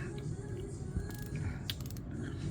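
The 60-click unidirectional bezel on a Kraken NH38 automatic watch being turned, giving faint, close, closely spaced ratcheting clicks over quiet room noise.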